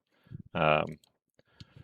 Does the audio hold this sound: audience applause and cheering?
no